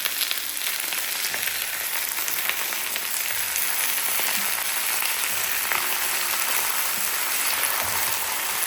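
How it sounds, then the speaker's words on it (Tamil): Chicken frying in oil in a pan, a dense, steady sizzle with crackling pops running throughout, close and fairly loud, with no voices. "நேரம் சிக்கன் இந்த எண்ணெயில் வதங்கட்டும்"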